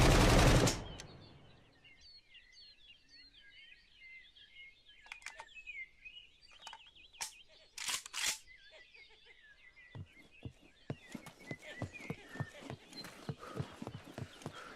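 Gunfire from a weapon in the open-world prison video game SCUM, a few separate shots and then a rapid run of sharp reports, set against quiet outdoor ambience with chirping birds.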